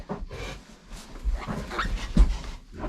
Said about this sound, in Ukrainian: щось вона до нього гарчить